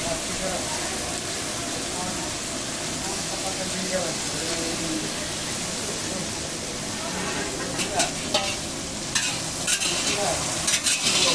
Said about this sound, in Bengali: দিয়ে দিচ্ছি আদা, জিরে ও কাঁচা লঙ্কা পেস্ট।